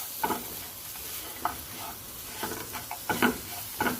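Banana pieces being stirred with cardamom powder in a pan, heard as several soft, irregular scraping strokes with a faint sizzle underneath, close and fairly quiet.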